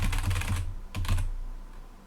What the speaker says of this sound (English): if you type a variable like just like this, just keep typing